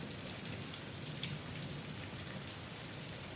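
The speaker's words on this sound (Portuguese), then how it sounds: "Se você está gostando dessa atmosfera sombria ao som da chuva" Steady rain falls in a dense, even hiss of countless drops pattering on surfaces, soft and continuous with no voices.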